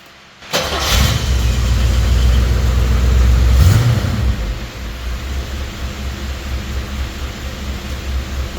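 A Rolls-Royce Silver Shadow starts with a sudden crank and catch, then runs at a loud, close, rumbling high idle that swells briefly and settles into a steadier idle.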